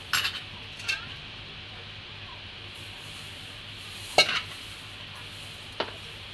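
Spoon stirring sunflower into thin watermelon juice for ice cream in a bowl, faint steady swirling with a few sharp clinks of utensil against the dish.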